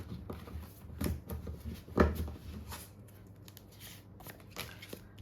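Tarot cards being shuffled and drawn by hand, a run of soft papery riffles and slaps with a few sharper snaps, close and fairly quiet, with no talking.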